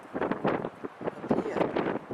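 Gusty wind buffets the microphone on a cold, exposed lookout in Great Britain, a loud rumbling roar that surges and eases in waves with no clear voice over it.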